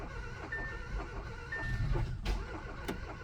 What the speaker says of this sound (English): This is how a car sounds when it has bad compression.